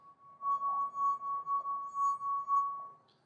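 A finger rubbed around the rim of a wine glass, giving a clear sustained ringing tone that swells and fades in pulses for about three seconds.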